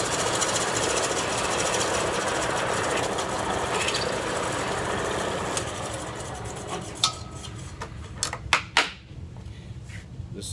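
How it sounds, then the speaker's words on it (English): A drill with a countersink bit bores into a metal shovel handle, grinding with a dense continuous rattle up close, then trailing off into a few sharp clicks and knocks at the end. "Reach full speed. My countersink bit down."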